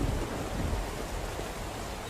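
Steady rain falls in the survival game SCUM, a dense, even wash of noise with no breaks, lasting about two seconds at moderate level.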